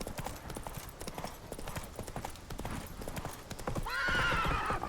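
Roach, a horse in The Witcher 3, clops along in a quick, steady hoofbeat rhythm, then lets out a loud, rising neigh near the end, with game ambience underneath.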